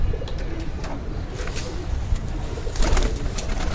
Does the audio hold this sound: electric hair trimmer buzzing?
no